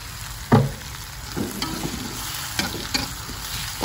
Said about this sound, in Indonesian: Cuma tetap goreng gelambang